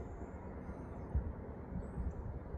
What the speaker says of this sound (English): She heard the train.